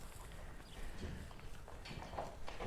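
A herd of cows walks past in the Swiss lakeside village of Iseltwald on Lake Brienz, hooves clopping and shuffling in a steady, overlapping rhythm at moderate distance under diffuse outdoor background noise.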